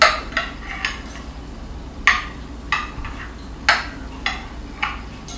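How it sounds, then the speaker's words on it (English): A spoon stirs fresh kefir into cream skimmed from raw milk, giving about eight to ten sharp clinks against the bowl at an uneven, unhurried rhythm over a quiet background. "I need to stir this up with fresh kefir"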